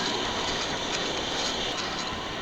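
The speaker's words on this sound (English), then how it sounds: "we are going to board this high-speed train" Steady broadband rumble of a high-speed train running from Shanghai Hongqiao to Wuxi, a continuous loud roar with faint rail noise and no distinct clacks, heard alone.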